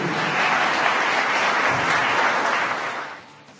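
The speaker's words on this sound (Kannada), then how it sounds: "ಸೌಭಾಗ್ಯ ಜೋರಾದ ಚಪ್ಪಾಳೆಯೊಂದಿಗೆ ಅಭಿನಂದನೆಗಳು." A crowd applauds loudly at a tribal and folk music festival in Bengaluru, dense continuous clapping that holds steady for about three seconds and then fades out.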